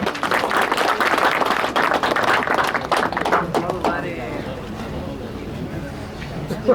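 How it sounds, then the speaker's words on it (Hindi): A crowd at a large outdoor political rally claps in welcome, a dense burst of applause for about three seconds that thins into crowd murmur and scattered claps. "सभी तालियों से स्वागत करें।"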